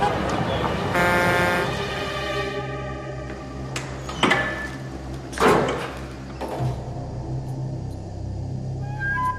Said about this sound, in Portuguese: o outro som é o ruído do tráfego